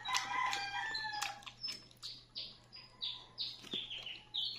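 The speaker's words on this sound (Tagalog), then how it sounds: "narinig niyo ang tweet-tweet ng ibon" Rooster crowing and other fowl clucking and chirping outdoors, with a series of repeated bird calls and a steady low electrical hum underneath.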